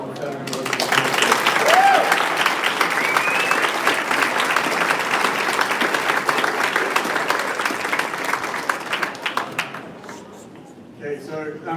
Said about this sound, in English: ask for a huge round of applause for the Federal University